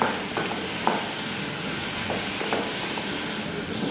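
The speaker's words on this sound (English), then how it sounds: "Cooking it out for a minute. What this is doing is gently toasting the cinnamon" Cinnamon gently toasting in a pan, a steady soft sizzle and hiss with a few faint stirring scrapes, heard close with no talking.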